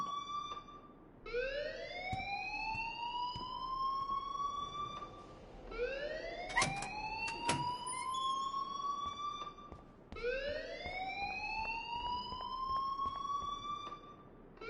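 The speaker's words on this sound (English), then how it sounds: "please turn off that alarm since that's your job" An alarm siren in a video game wails in three long rising sweeps, each climbing then holding, repeating every few seconds at moderate loudness, with a few sharp clicks and thuds between cycles.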